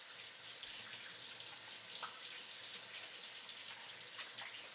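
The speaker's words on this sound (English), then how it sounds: "I just give it a little wash in the sink" A deer heart, cut down the middle, rinsed under a running kitchen sink tap: a steady, soft hiss of flowing water with faint splashes, continuous and fairly quiet, with no voices.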